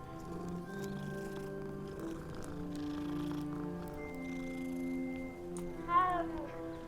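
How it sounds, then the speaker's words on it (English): Cat in the Hogwarts Legacy video game being petted, a soft cat vocal chirp near the end over steady layered game music and ambience. "Oh, you can just pet cats!"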